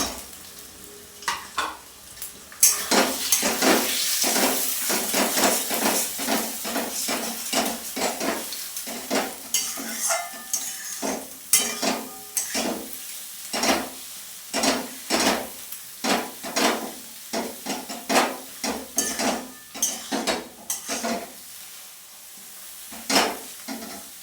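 Onion with salt and chili fries in a pan with egg, a bright sizzle under dense, rapid scraping and clattering as a metal spatula stirs it, close up and busy for the whole stretch without any voices.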